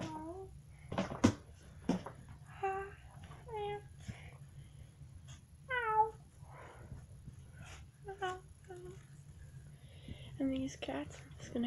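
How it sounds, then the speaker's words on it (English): Several cats meow repeatedly at close range, short rising and falling calls spaced irregularly, with soft rustling and background noise between them. "And these cats are just gonna be seeing this place about."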